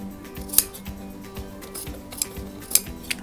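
Scissors trimming excess fabric from a base garment on a dress stand, giving soft snips and a couple of sharper metallic clicks against a quiet room hum, with no voices.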